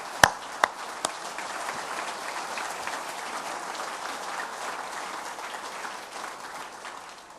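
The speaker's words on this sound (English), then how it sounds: "please join me in a big round of applause for everyone that's helped me this year in this executive" An audience claps in sustained broadband applause after a few sharp, isolated claps at the start; steady and moderately loud, without speech.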